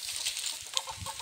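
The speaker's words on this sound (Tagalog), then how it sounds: "Ito na yung sinasabi kong mga alaga kong manok." Pet chickens kept inside a net enclosure cluck close by in short, overlapping calls over a soft, noisy background.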